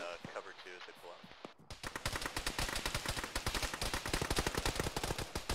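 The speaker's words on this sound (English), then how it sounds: "Medic's under heavy fire" Rapid automatic gunfire fills a military video game firefight, dense repeated bursts rattling on continuously after a short opening of voices over sparse shots, with speech mixed in underneath.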